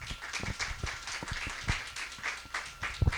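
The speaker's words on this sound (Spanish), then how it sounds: "Un aplauso muy especial para nuestras amigas y nuestro amigo que han estado con nosotros" An audience applauding at a public event on faith and inclusion, steady crowd clapping with no voices over it.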